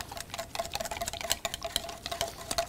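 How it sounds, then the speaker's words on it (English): A spoon stirs a spiced pudding mixture in a pot, giving a close, steady run of quick clicking scrapes and taps against the sides. "Make sure you get a real good stir on this"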